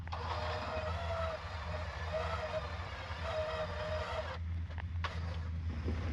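A Jeep engine idles with a steady low rumble while a winch pulls it, heard close and continuous with faint mechanical whirring over it and no talk.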